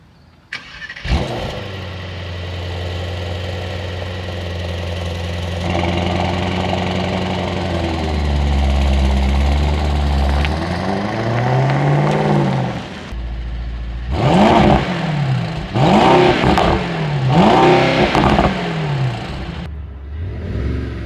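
A 2025 Mercedes-AMG GT63 V8 fires up with a sharp starter burst, then settles into a loud, steady idle before a series of quick throttle blips rev the engine up and down near the microphone.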